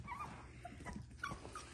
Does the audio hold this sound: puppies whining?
yes